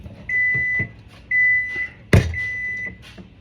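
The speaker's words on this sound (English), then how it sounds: "That's the microwave, y'all." A microwave oven beeps three times, each tone long and steady, with a sharp thud between the second and third beeps and faint kitchen clatter underneath, fairly close and loud.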